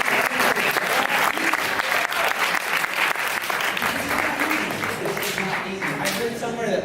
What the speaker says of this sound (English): can we get a round of applause for everyone?